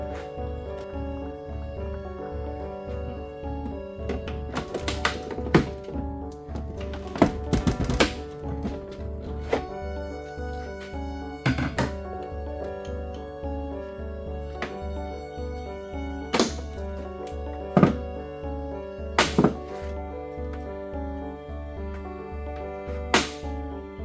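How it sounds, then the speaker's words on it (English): Scattered dull thumps and knocks on the smashed rear trunk lid of a Mercedes E400 convertible, irregular and close, over a steady droning background hum. "Let's see if I can open the trunk lid."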